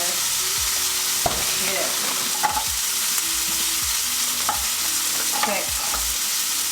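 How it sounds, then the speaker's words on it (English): Butter sizzles loudly in a hot pan with a steak, the steady frying hiss broken by occasional stirring or scraping knocks and a brief word or two spoken over it. "Putting more butter in."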